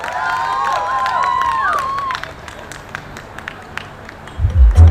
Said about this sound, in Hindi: चलिए एक बार जोरदार तालियां हो जाए इन दोनों के लिए